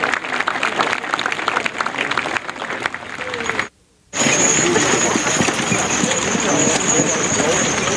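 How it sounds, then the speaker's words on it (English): An audience at a Clydesdale horse show at a thresherman's reunion and rodeo claps in a loud sustained roar that breaks off briefly and then resumes just as dense, with a voice on the public address mixed in. "How about a nice round of applause for our exhibitors of the Manitoba Clydesdale Classic?"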